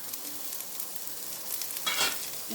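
Onion and a couple of garlic cloves frying in oil in a pan, a soft steady sizzle with a brief louder stir-and-hiss burst near the end, no voices.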